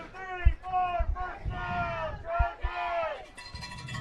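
Crowd at a varsity high school football game roaring and cheering after a first down, a rising swell of many voices with shouts layered over a distant announcer-style voice.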